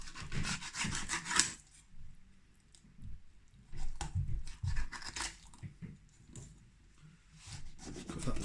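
A knife slices a fillet off a flat fish in close, wet bursts of rubbing and squishing, separated by short quiet pauses.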